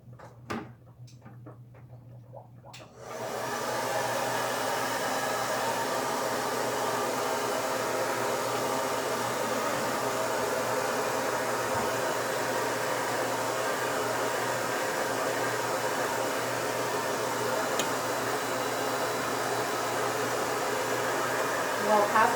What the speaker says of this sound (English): Okay, time to dry it. The hair dryer here.